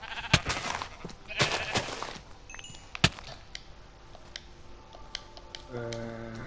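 A sheep bleating in Minecraft, short wavering bleats among sharp game clicks and thumps, with a voice talking briefly.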